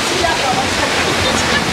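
Floodwater rushing down a street in Anapa like a river, a loud continuous broadband roar and slosh filling the whole stretch.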